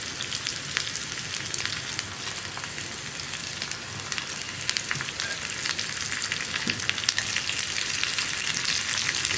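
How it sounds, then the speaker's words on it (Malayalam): Chopped onions and three dried red chillies frying in hot oil as they are stirred, a close, steady crackling sizzle with faint stirring scrapes and no speech. "ഇതെല്ലാം ചേർത്ത് നന്നായിട്ട് ഉള്ളി ഒന്ന് കളർ ചേഞ്ച് ആയി വരുന്നത് വരെ ഇളക്കി കൊടുക്കുക"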